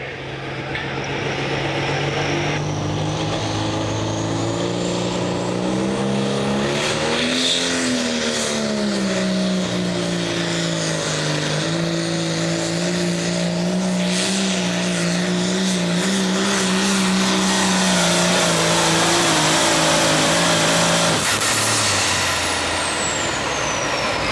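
A loud, heavy turbocharged Deutz pulling tractor engine at a tractor pull roars steadily at high revs, its pitch rising and dipping, with a high whine over the top and no talking.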